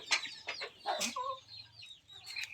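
Free-range desi chickens cluck in short, uneven bursts, with several birds sounding close by and fairly soft. Some low calls and brief squawks come over a faint low hum, and no one speaks.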